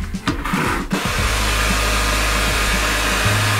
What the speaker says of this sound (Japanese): 一緒に髪の毛乾かしましょう